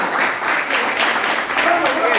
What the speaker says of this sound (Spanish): Así que, señores, fuerte aplauso.